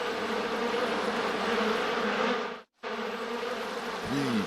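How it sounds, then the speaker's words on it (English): A dense, steady buzzing of many bees in a cartoon, close and loud, broken by a brief moment of silence before the swarm resumes. "Bees. Why did it have to be bees?"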